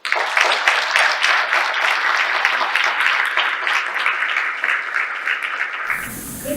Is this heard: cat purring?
no